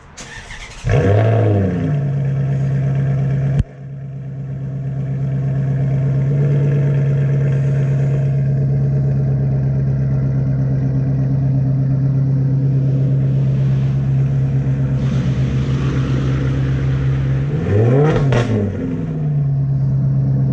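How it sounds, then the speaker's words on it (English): A Maserati Quattroporte's 4.7-liter V8 fires up with a sharp crank and roar, settles into a deep steady idle, then gets a second loud rev blip near the end, heard close with no talking. "I was going to give it a start so we can hear this V8."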